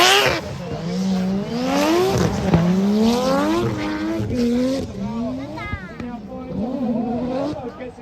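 Drift cars battle at Mondello Park, Ireland, with engines revving up and down in repeated rising sweeps and squealing tyres, loud and close under continuous commentary.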